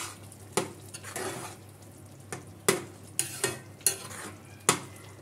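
A utensil scrapes and clacks against a frying pan in irregular strokes while stirring hotel-style vada curry, about eight sharp knocks over a soft sizzling bed, close by.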